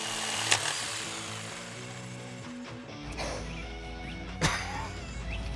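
A power tool cuts into a wooden chair, a steady buzzing drone with sharp cracks and snaps as the wood gives way, loud and close, with no talking.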